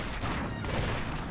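Gunfire in the video game Dead to Rights, played on a PSP emulator: a dense, noisy burst of shooting that fills the whole moment, loud and continuous with no clear gaps.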